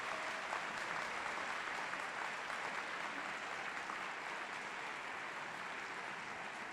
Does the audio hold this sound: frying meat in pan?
no